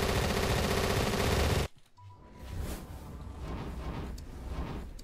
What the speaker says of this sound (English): People are just popping off with a pistol.